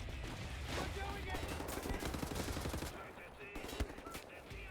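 Rapid automatic gunfire from a World War II–style shooter game, dense bursts loud and continuous through most of the moment, with a short lull and a few sharp shots near the end over a steady backdrop of game noise.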